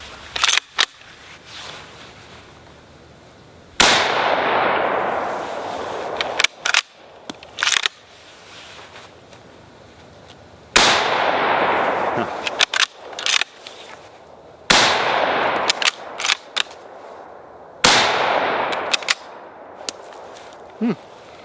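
Loud, sharp gunshots from a Finnish M91 Mosin Nagant rifle fired outdoors among trees, five heavy reports spaced a few seconds apart, each with a long rolling echo, and small clicks and rattles of the bolt working between shots.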